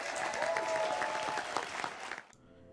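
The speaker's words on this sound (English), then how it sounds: "Round of applause." A talent show crowd applauds steadily with dense clapping, fairly loud, then the applause cuts off abruptly near the end.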